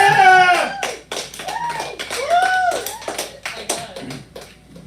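An open mic crowd in a bar claps and whoops, with scattered sharp hand claps and excited voices rising and falling over a few seconds.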